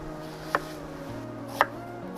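A knife strikes a cutting board twice, cutting onion into cubes outdoors by a heating cauldron. The two sharp, well-spaced chops sound faint over a low, steady background hum.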